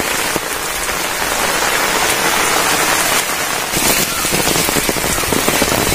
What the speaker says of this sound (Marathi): पाऊस प्रचंड पडतोय